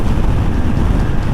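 Strong West Texas wind roars across the microphone of a moving motorcycle, a loud, continuous low buffeting rumble with no letup.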